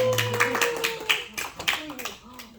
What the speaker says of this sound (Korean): 우리 앞뒤로 환영하고 박수하겠습니다